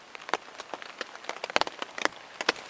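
Raindrops patter irregularly on a tent during a canoe-camping trip in Algonquin Provincial Park, a close, crisp scatter of taps and soft splats with no voices.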